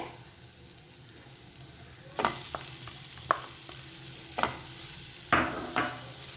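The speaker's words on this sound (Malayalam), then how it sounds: "ഇനി മുട്ടയും കൂടെ ചേർത്ത് നന്നായിട്ടൊന്ന് ഇളക്കി കൊടുക്കുക." Egg being stirred into a spiced masala mixture, with a quiet background and a few sharp scraping and clacking strokes of the spoon in the second half.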